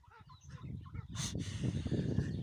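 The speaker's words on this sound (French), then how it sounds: "Elle gueule la canne. Je sais pas si vous l'entendez bien." A female duck quacks loudly and repeatedly in harsh, honking bursts, close by, with a brief noisy rustle in the middle.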